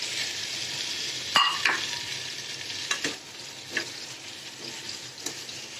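Boiled and fried potatoes and fried eggplant go into a sizzling cooked spice mix in a pan, a constant crackling fry broken by several sharp scraping stirs of a spoon, close up and without speech.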